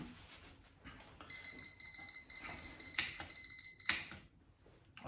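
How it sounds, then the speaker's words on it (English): A kitchen timer alarm goes off during stovetop beer mashing, sounding as high, steady electronic beeps in repeated bursts over quiet handling noises and clatter, fairly faint. "Alarm."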